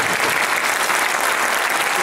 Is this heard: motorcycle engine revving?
no